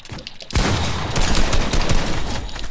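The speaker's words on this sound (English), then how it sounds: "I hit a pump shot" Dense, loud gunfire in Fortnite starts after a quiet half second, with a pump shotgun blast among overlapping shots and continuous battle noise.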